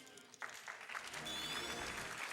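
A short burst of applause from a speedrunning event audience rises quickly and holds, with scattered clapping and some whoops from a crowd, fairly distant.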